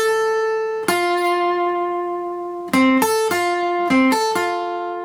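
The NBC television network chime: several sustained notes, one held tone then a quick sequence of stepping pitches, bright and resonant with no talking.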